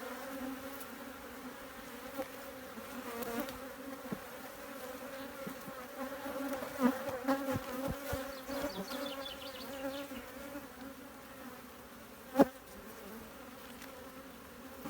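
Honeybees buzzing steadily at an open hive during a colony inspection, the queen among them; a continuous close drone of many insects, with a brief sharp knock near the end.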